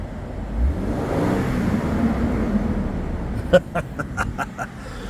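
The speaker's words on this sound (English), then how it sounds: "Man, it's got a fan like a school bus fan." Climate fan in the cabin of a new Lexus LX600 SUV blowing with a steady, broad whoosh at close range, followed by a few sharp clicks near the end.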